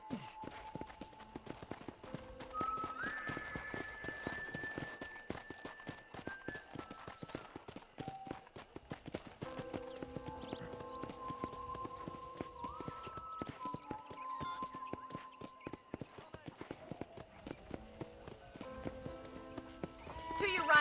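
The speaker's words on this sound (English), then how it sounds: "let's see if you can still ride a horse" Horse hooves clip-clop steadily in Red Dead Redemption, joined by a neigh, all under a game music score with melodic tones throughout.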